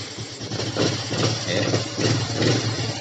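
A Honda Supra X 125 fuel-injected motorcycle that is sluggish and heavy on the throttle, its engine running close by with a low rumble that swells and eases in a few rev surges.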